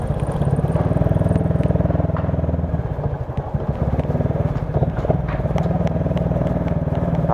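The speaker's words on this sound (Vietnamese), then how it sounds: "cái bệnh đặc trưng của xe này là nó sẽ hơi hú hú nhẹ ở cái đó, từ phần máy nè" A Honda Future LED motorcycle upgraded to 63zz idles and runs steadily at close range, with a continuous even engine drone and faint mechanical clatter; a slight whine from the engine is noted.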